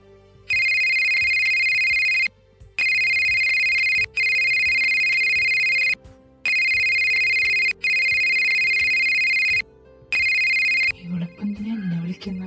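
Outgoing phone call ringback, loud repeated electronic ring tones in regular bursts separated by short gaps, followed by a person starting to talk.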